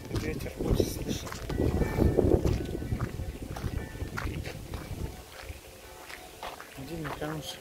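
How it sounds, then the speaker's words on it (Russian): Steady gusty wind buffets the microphone outdoors in Bayreuth, Germany, a rough low rumble with scattered rustles and crunching steps, while people talk now and then in Russian. "Ветер будет слышен."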